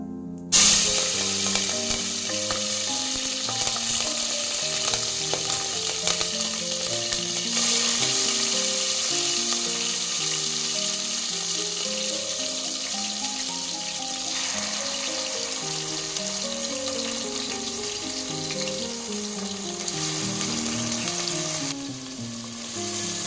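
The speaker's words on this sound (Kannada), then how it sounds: "ಐದತ್ತು ನಿಮಿಷ ಈರುಳ್ಳಿ ಫ್ರೈ ಮಾಡ್ಕೋಬೇಕು" Chopped onions frying in a pan for palak dal, a steady loud sizzle running unbroken throughout with occasional stirring, close up and without talk.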